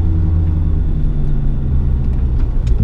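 A car running on a standalone ECU during a tuning drive with autotune, heard from inside as a steady, loud, low engine and road rumble.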